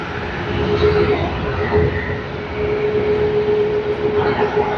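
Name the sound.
T-Way airliner arriving at Sydney Airport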